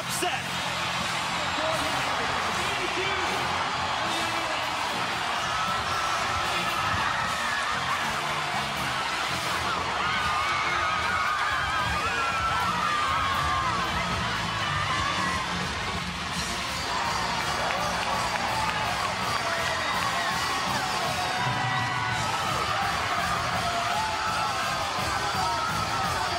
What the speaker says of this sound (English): And a record crowd watches a historic upset.